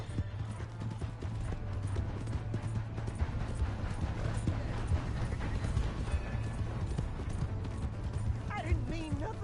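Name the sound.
horse galloping in a video game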